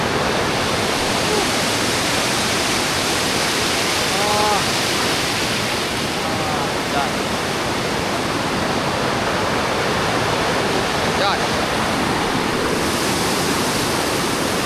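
A steady, loud roar of rushing water from Kot Kong waterfall in Thailand pours on without a break, full and close like standing near a falling torrent.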